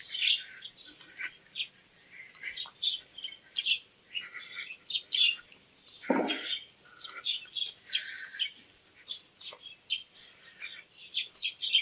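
Birds chirp and tweet steadily among the ruins of Mohenjo-Daro, a dense run of bright, close calls with a brief low rustle midway.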